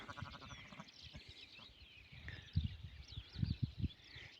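A few short, close sheep bleats in a burst near the end, over a busy outdoor background with birds chirping throughout.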